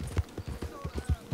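Horse hooves clip-clop in Red Dead Redemption 2, a steady rhythmic trot of thuds, with a voice talking over them.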